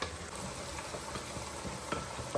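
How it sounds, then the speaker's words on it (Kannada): Onion fries in oil for a tempering, giving a quiet, continuous sizzle with light stirring scrapes and occasional small pops. "ಒಗ್ಗರಣೆ ಚೂರು ಈರುಳ್ಳಿ ಸ್ವಲ್ಪ ಫ್ರೈ ಆದಮೇಲೆ ಇದನ್ನು ಹಾಕ್ಕೊಳ್ತಿದ್ದೀನಿ"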